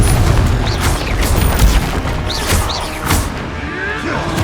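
Explosive blasts from the Confringo fire spell in the Hogwarts Legacy video game, several booming hits and crashes over continuous game noise, with a player shouting spell names throughout.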